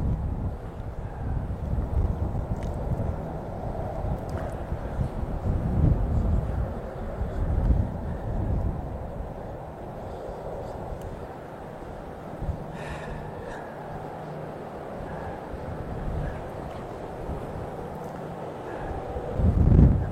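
Strong, gusty wind blows outdoors, buffeting the microphone with a dense, steady roar that swells in a few louder gusts near the start and end.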